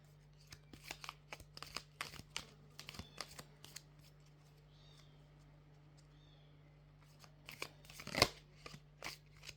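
Oracle cards for a love reading are shuffled and drawn in a quiet room, a run of soft papery flicks and slaps coming in quick clusters, pausing briefly, then picking up again with one sharper snap near the end.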